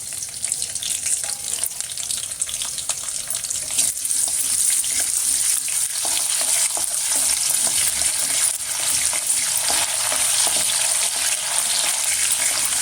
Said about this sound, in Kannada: ಸಾಸಿವೆ ಹಾಕ್ತಾಯಿದ್ದೀನಿ, ಕರಿಬೇವಿನ ಸೊಪ್ಪು, ಮೆಣಸಿನ್ಕಾಯಿ ಹಾಕ್ತಾಯಿದ್ದೀನಿ